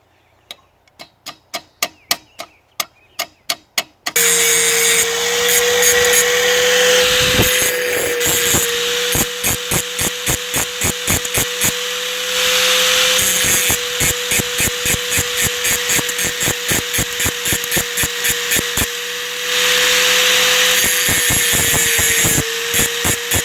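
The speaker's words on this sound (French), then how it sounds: "le petit coup de meule, on l'a fait avec un convertisseur" Angle grinder powered through a small 12-220 volt converter during wheel repair work: a run of separate clicks gives way to a loud, steady motor whine with a rapid rhythmic ticking running through it, dipping briefly a few times.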